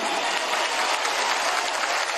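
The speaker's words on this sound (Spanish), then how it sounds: "Vamos a darle un aplauso a Venezuela entera." A crowd at a political march to Miraflores in Venezuela claps loudly and continuously, a thick, even wash of applause with no break and no clear voices on top.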